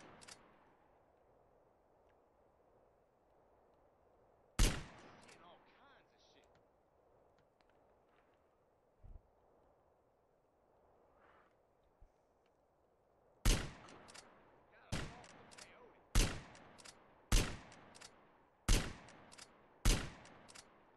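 Gunfire in GTA San Andreas Definitive Edition: one sharp shot, a long pause, then a volley of six loud, evenly spaced shots, with quiet room noise and talk between them.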